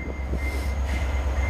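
A VIA Rail F40 diesel locomotive train passes in Montreal, a brief loud low rumble with a steady engine drone and a high tonal whine.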